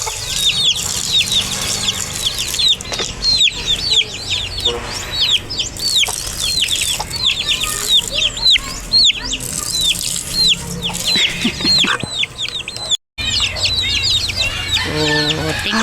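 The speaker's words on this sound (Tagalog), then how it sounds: "Kaya lang may manok dyan." Backyard chickens cluck and call repeatedly and close by, a busy, steady stream of bird sounds with a rooster-like tone, over faint background noise and a brief dropout near the end.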